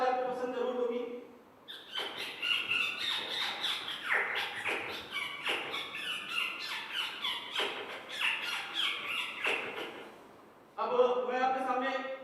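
A performer mimics a parrot with a rapid series of harsh, high squawks and chattering calls. The calls come in bursts that run together, loud and close, bracketed by more tonal whistling notes at the start and end.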